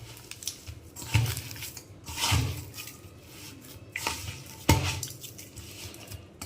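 Palm fruit pulp dough for tal ghagra being worked in a bowl, giving irregular scraping and clinking of a utensil against the bowl at close range, with a few sharper knocks and no talking.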